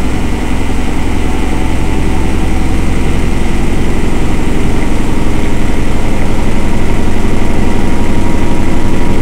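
An Indesit IWDE7168 washing machine spins a load of towels toward 1,000 RPM, giving a loud, continuous droning roar with heavy low rumble and shaking, steady throughout with no talk.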